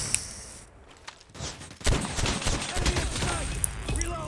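Pistol shots in COD Mobile, a short quiet lull followed by a dense flurry of sharp gunfire cracks mixed with game effects, moderately loud and close.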